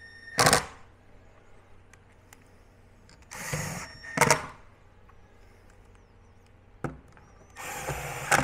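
A power drill drives screws to fix a new speaker driver into a JBL 4343 speaker cabinet, in several short whirring bursts separated by quiet pauses, close and fairly clear.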